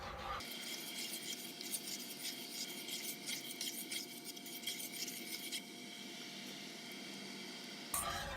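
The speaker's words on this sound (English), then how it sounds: "I'm stirring this soup while it's coming to a boil." Roux-based roasted garlic and onion soup stirred in a pan as it comes to a boil, giving a steady close rasping scrape of utensil against the pan that runs unbroken under a faint bubbling hiss.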